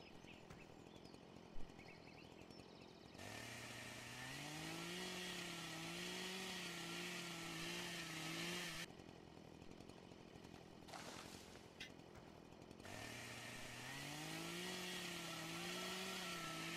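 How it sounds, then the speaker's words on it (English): A stump grinder in the Farm Sim 2013 video game chews up tree tops with a loud, droning engine whine that rises and dips in pitch. The grinding runs in long stretches, broken by brief lulls. "I'll show a little bit of the stump grinding."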